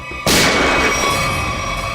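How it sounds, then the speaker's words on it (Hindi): A single sharp gunshot cracks out loudly after a moment of quiet, leaving a long ringing echo that slowly fades. "गोली चली यहां से"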